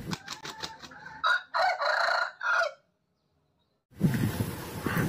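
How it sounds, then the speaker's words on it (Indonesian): A rooster crows, a loud nearby cock-a-doodle-doo broken into several harsh bursts, followed by a pause and then a burst of noisy shuffling or clucking from fowl. "Nah, kalau yang ini ayam."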